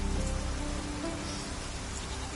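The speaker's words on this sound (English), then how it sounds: "Raining again." Constant patter of rain falling on a surface in a PS4 video game, an even wash of droplets throughout with a faint low hum underneath.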